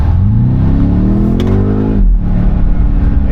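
BMW M5 Touring engine sound played through the car's speakers, a loud close rev rising in pitch for about two seconds, then settling back to a low steady hum.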